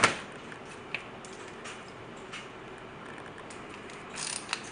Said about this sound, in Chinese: 可以拧一下回一下，这样上的更快